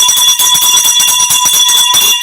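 A metal bell is struck in rapid, steady repeated hits in a boxing ring, each ringing with a bright, sustained tone that overlaps the next.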